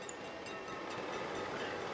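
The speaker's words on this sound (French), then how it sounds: "ah quand même, il y a des trains qui passent." A train passes in a Roblox video game, a faint, steady rolling rumble that carries on without a break and with no talk over it.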